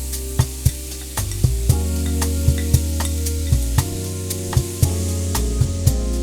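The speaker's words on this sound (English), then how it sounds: "Vegetables now are gonna go in." Vegetables are added to a hot pan where oxtail has been browned for braising. The pan gives a continuous loud sizzle, broken by repeated sharp clatters of stirring, with no voices.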